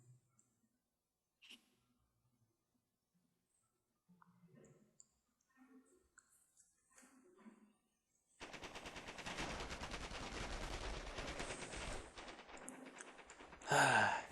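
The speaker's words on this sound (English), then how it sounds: "I'm fighting yet another MG42" An MG42 machine gun in Company of Heroes opens up with sustained, loud rapid fire that runs unbroken to the end, after a quiet stretch of faint scattered sounds and soft talk.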